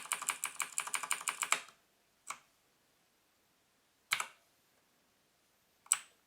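Clicky blue-switch keys on a GranVela MechanicalEagle Z-77 mechanical gaming keyboard, a quick run of close, crisp presses followed by three separate single clacks spaced apart in quiet.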